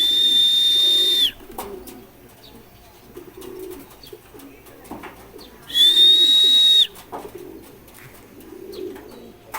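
Racing pigeons arriving home coo and shuffle nearby while two loud, steady electronic beeps sound, one at the start and another midway, with faint talk in the background.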